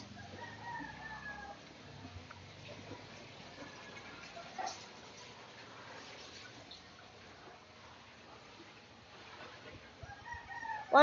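Chicken crowing at a home in the Philippines, a faint hen's call rising now and then from a steady outdoor background with no talking.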